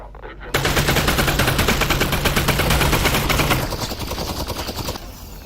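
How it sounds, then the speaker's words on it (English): Rapid sustained SMG fire in Half-Life: Alyx, a loud continuous automatic burst lasting several seconds before trailing off into echo. "let's use the SMG on him, shall we?"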